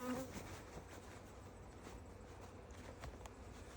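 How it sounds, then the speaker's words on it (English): Bees buzz around nearby during a hive inspection, a continuous droning hum that drifts in and out, with faint outdoor rustling and occasional footsteps underneath. "Absolutely harassed by a couple of bees who are a little cranky with me."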